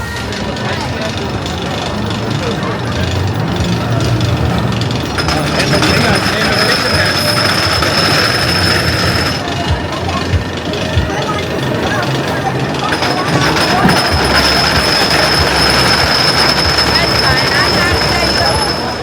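The Bobcat wooden roller coaster at Six Flags Great Escape, ridden in the back row, gives a loud, rumbling, clattering roar of wheels on track with squeals and rattles, continuous and close throughout.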